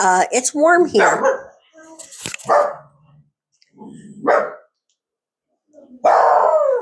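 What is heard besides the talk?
dog barking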